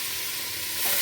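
Fresh cooking oil frying ingredients for a village-style matumbo dish, a steady close hiss and sizzle with faint stirring clatter, swelling slightly louder toward the end.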